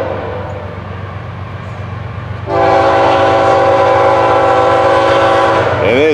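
FEC 109 freight train on the Florida East Coast line approaching with a low engine rumble, then a long, loud horn blast, near and sustained, with wheel noise underneath.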